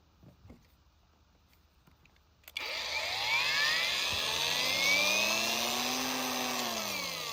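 Angle grinder fitted with a cutting disc made from a sheet of paper spins up abruptly after a quiet stretch, then holds a loud, steady high whine with a falling then rising pitch sweep.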